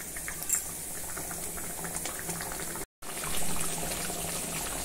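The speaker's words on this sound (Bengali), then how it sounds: "ঝোল ফুটছে বেশ ভালোভাবে" Fish curry gravy made with yogurt boils steadily in a pan over raised heat, a continuous soft bubbling hiss close by, with no voices and one brief dropout midway.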